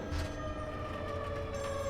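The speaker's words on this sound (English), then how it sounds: "the sound of the phone can be heard ringing again" A telephone rings in the horror game Still Wakes the Deep, a steady electronic tone sustained through the whole moment against a dense, humming backdrop, with no voices present.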